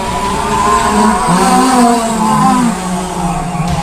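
Several stock mod race cars roar together at a green flag restart on an oval, loud engines revving up and climbing in pitch as the pack accelerates, a dense continuous drone with no talking.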